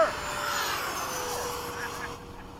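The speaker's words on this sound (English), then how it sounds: "Check the warbirds over there!" Jet aircraft pass overhead at an air show, giving a steady, moderately distant roar with a slowly falling whine that fades at the end, while people talk nearby.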